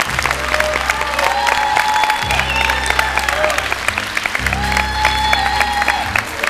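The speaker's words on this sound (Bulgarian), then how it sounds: "Аплодисменти за Велина!" Loud, sustained audience applause and crowd noise at the Miss Bulgaria 2013 beauty pageant, mixed with music and a deep pulsing bass throughout.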